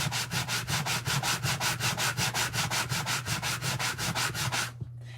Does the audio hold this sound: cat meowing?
no